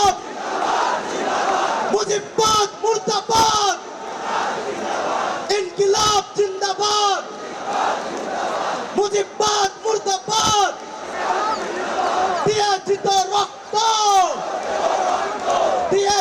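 A large crowd at a political rally chants slogans in loud, rhythmic call-and-response bursts, with a leader's voice leading and many voices answering in repeated, evenly spaced shouts.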